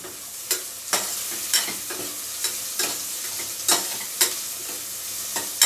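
Onion and vegetables stir-frying in a pan for fried rice: a soft sizzle broken by regular scraping stirs, about ten evenly spaced strokes, close and clear with no talking.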